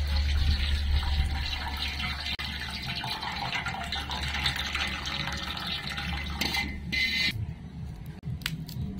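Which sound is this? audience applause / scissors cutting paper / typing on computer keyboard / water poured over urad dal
water poured over urad dal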